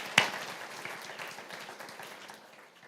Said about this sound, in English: students help me give them a round of applause just to thank them for that